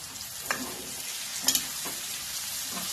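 Ghee sizzles in a pan of cauliflower being cooked for a flower bhaji, a steady bright frying hiss broken by a few soft clicks and pops, close by with no talk.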